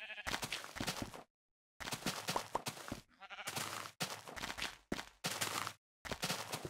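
Sheep in Minecraft Pocket Edition bleat in a series of close, loud, wavering cries separated by short silences, several calls in quick succession with no talking.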